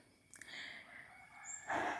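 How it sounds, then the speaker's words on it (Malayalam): A rooster crows from neighbouring houses at a home in Langkawi, a faint, distant call rising over quiet outdoor background. "അപ്പുറത്തെ വീടുകളിൽ നിന്നാണ് കോഴിയുടെ കൂല് കേൾക്കുന്നത്"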